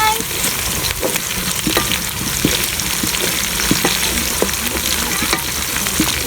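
Onions fry in a pan of hot oil with cinnamon, cardamom and bay leaf while being stirred, a loud continuous sizzle broken by repeated scraping strokes of the spoon.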